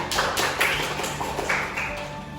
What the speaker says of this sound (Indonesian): Kita beri tepuk tangan untuk Ina.